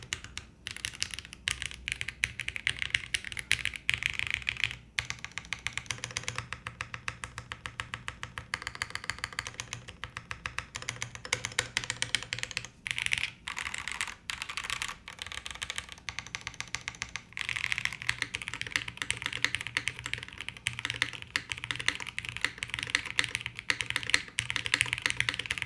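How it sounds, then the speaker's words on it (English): Typing on a custom mechanical keyboard, the Bina 103 build, in a fast, continuous clatter of close keystrokes with brief pauses, heard alone without talk. "So I think the typing experience, like the sound is super attractive."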